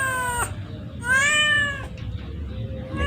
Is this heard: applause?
no